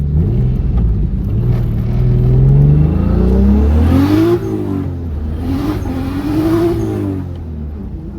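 A nearby car engine revs up in first gear, drops briefly on the shift to second, then climbs again in a second pull, loud and throaty.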